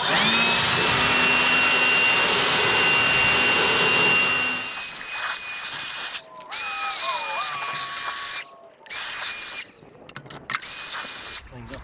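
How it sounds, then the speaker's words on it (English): Leaf blower roaring loudly up close as it blows debris off riding mower blades, a steady whine that later cuts in and out in bursts. "So I'll get the blower out here, we'll get this blowed off."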